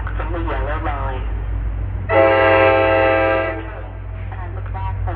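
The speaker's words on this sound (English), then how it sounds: "the next train to stop on track 2 will be the 5:14 p.m. eastbound train to Hoboken" An eastbound train bound for Hoboken arrives at Secaucus station in New Jersey, giving a loud sustained multi-tone horn blast of about a second and a half between stretches of platform announcement speech over steady low rumble.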